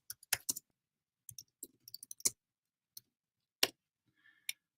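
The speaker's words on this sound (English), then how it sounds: "let me just type that in." Typing on a computer keyboard comes through as sparse, crisp key clicks in irregular bursts with pauses between them, close and fairly quiet with no talking.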